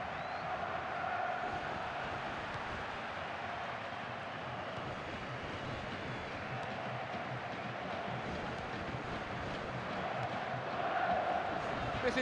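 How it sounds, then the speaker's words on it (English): Steady crowd murmur and cheering from a FIFA Online 3 football match, a broad continuous roar filling the background with slight swells toward the end. "And the crowd really enjoying it."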